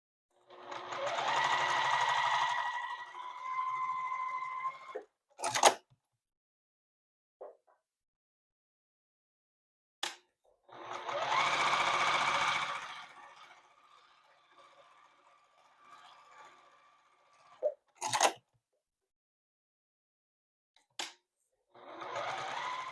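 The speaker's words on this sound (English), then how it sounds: "we are going to do some free motion quilting" A sewing machine free-motion quilting a fabric purse runs in two fast, close bursts of several seconds each, separated by sharp clicks and quiet pauses.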